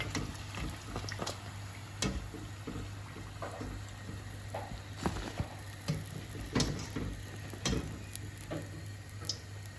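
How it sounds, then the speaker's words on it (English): Homemade-pastry keema samosas fry in hot oil, a soft, steady sizzle broken by scattered ticks and pops of bubbling, faint and close, with no speech. "I'm going to fry the rest of these as well like this"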